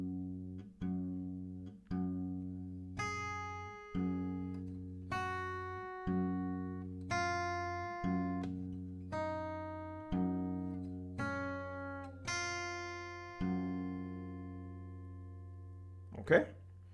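Acoustic guitar picks out a melody slowly, pairs of clear plucked notes alternating with low bass notes in a steady rhythm, each ringing and fading, close and alone, ending with a brief sharp scrape.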